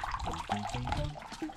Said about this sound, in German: Da kommt Wasser raus.